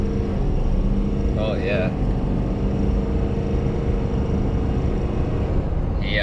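A Ford Super Duty F-550 with a 6.7 Powerstroke diesel and Banks Derringer tuner set to level 6 pulls away from a stop, a deep steady engine rumble filling the cab while a voice briefly exclaims.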